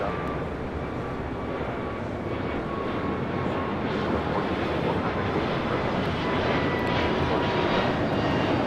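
An ANA Boeing 787-9 Dreamliner arriving from Tokyo lands at LAX, its engines giving a loud, broad, continuous roar that stays steady and swells slightly toward the end.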